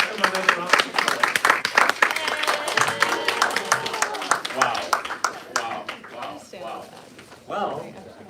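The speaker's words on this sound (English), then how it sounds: "let's give them another round of applause." An audience applauds after a musical performance, a dense burst of clapping that swells and then thins out, with voices mixed into the crowd noise.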